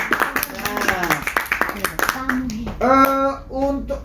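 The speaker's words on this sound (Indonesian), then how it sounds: "Nah, tepuk tangan dulu." Children clapping hands together at a school storytelling session, quick scattered claps mixed in and under lively children's voices and chanting close by.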